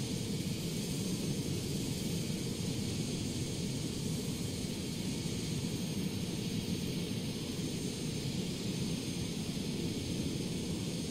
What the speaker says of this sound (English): Been chasing this jet for about 10 minutes.